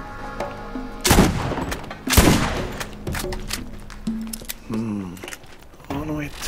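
A scoped shotgun fires two loud blasts in the video game Borderlands, spaced about a second apart, amid game sound effects and tones, with a voice talking over it.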